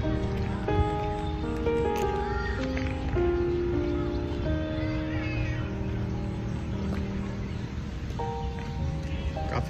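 Steady rain falls at an outdoor cricket academy's net practice area in Indore, a soft continuous patter mixed with faint tonal background sounds.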